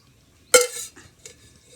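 Ghee goes into a pan on a gas stove for village-style carrot halwa, marked by one sharp metallic clink of a utensil against the pan and a short scrape that fades into quiet.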